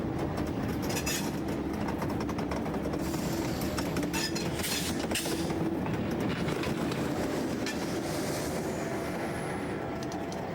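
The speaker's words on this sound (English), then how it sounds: "The train heads for Pinar del Rio, the western tail of Cuba." Passenger train running along rails in Cuba, a steady loud rumble with rhythmic clickety-clack of wheels over rail joints, continuous throughout with no voices.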